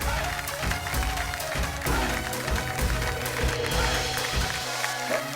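An audience applauding loudly on a Marathi television show, with sustained dense clapping throughout, blended with background music and some crowd noise.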